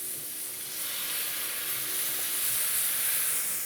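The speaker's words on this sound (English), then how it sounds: "While the pan's still hot, we're going to go ahead and add some New Zealand Sauvignon Blanc" New Zealand Sauvignon Blanc white wine poured into a hot pan while cooking cockles, giving a loud, steady hissing and steaming that swells slightly and holds throughout, close up with no voices.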